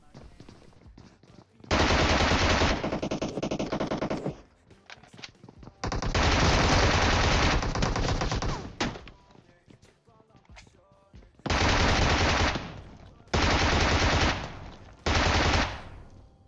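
A PP-Bizon submachine gun firing in PUBG Mobile: five bursts of rapid automatic fire, each lasting two to three seconds, separated by short quiet gaps. The shots are loud and close.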